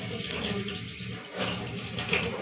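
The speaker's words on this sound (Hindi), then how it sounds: "पत्तियों के ऊपर पानी पड़ता है ना तो ये फिर अच्छे से साफ हो जाती हैं, चमकती हैं" Water running steadily from a tap over leaves to wash them, a continuous close splashing rush without pauses.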